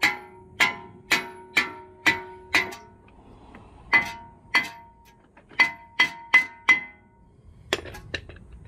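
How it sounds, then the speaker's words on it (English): Metal rings under repeated hammer blows on a stuck brake rotor of a 2013 Audi A4, a steady series of sharp clanging strikes, a pause, then more hits in quicker bursts. "Alright, I'm gonna get my bigger hammer."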